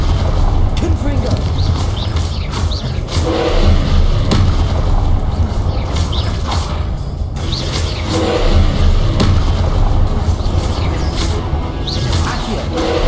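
Confringo explosive spell cast in Hogwarts Legacy, heard as repeated booming bursts and whooshes in dense, continuous combat noise, loud throughout with no pause.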